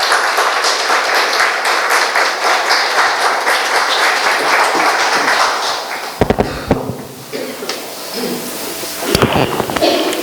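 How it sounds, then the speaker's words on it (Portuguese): A church congregation applauds the fathers during a service. Dense clapping fills the first six seconds, then gives way to sparser claps, thumps and shuffling with a few louder bursts. "Eu queria pedir uma salva de palmas"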